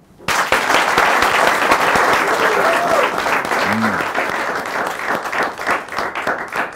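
An audience at a men's conference discussion breaks into sustained applause, dense steady clapping that carries on for several seconds and gradually thins toward the end.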